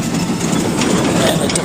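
A steam traction engine running at the Great Manawatu Steam Fair, a loud, steady mechanical chugging rumble heard close by without speech.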